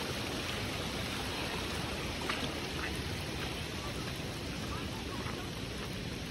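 A flooded river in the Konkan countryside rushes with a strong current, a dense, continuous broadband roar of water that stays steady and fairly faint, with faint voices underneath.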